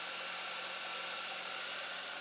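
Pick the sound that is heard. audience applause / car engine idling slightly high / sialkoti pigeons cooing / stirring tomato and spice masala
car engine idling slightly high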